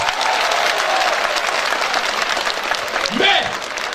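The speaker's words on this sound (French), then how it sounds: "Et il faut applaudir pour ça." A crowd at a speech in Niamey breaks into steady, sustained applause, dense clapping filling the whole stretch, with a brief voice rising over it near the end.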